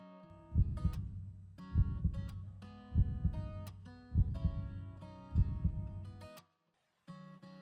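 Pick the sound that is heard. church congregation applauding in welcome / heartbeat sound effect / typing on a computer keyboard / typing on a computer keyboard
heartbeat sound effect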